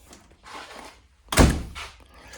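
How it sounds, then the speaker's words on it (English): A door is pulled shut in a basement, landing as one solid, loud thunk after a few seconds of soft shuffling and handling noise, with nobody speaking. "Let me close this door, guys."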